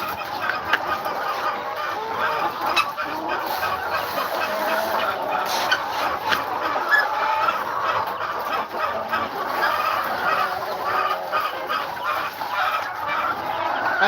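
Hens and roosters clucking and squawking continuously at close range while being fed by hand at a farm, a busy chattering flock with occasional louder calls.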